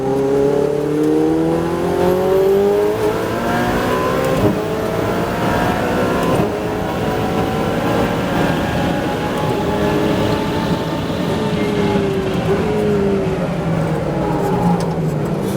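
Ferrari 488 Challenge race car engine on a track, loud and close throughout with rising and falling harmonic sweeps as the revs climb and drop through gear changes, including a downshift.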